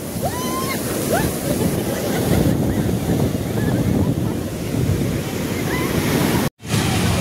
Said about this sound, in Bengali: দেখো কত বড় বড় ঢেউ এখন